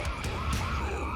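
A metal vocalist uses his voice to imitate a tire screech in a song: a sustained, harsh, high-pitched squeal over dense, loud band music for about a second.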